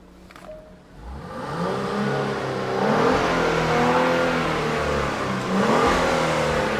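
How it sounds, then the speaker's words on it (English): A Genesis GV80 coupe's turbocharged engine revs up from idle and holds a sustained, muffled roar with rising and falling pitch, close by and with no talk. "Why don't you give it a little bit of a rev, April?"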